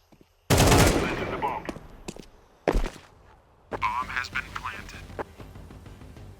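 Rifle fire in Counter-Strike 2 comes in a loud automatic burst followed by a few sharper single shots, close, with players talking over it.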